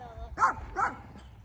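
A dog gives two sharp barks in quick succession, fairly close and clear over a quiet room background.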